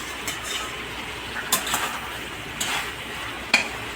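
Spice paste is sautéed in oil for a vegetarian potato curry with drumstick-stem fritters, giving a soft, steady sizzle broken by a few sharp spatula scrapes and clinks against the pan.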